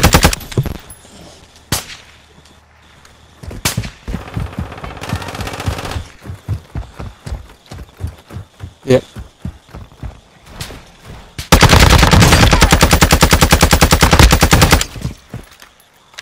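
Video game shooter gunfire: scattered sharp single shots early on, then a loud sustained automatic burst lasting several seconds, with hoof-like clopping and little talk.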